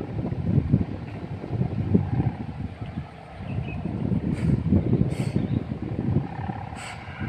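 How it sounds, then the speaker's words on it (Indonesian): Strong wind rushes and buffets the microphone continuously while a large 4 m kite is flown on an open field, a rough, gusting roar with no clear speech. "Wah, angin jan enak."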